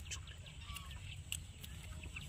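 Chickens clucking softly in a village yard near a crab-catching spot, brief scattered calls over a steady low rumble of background noise.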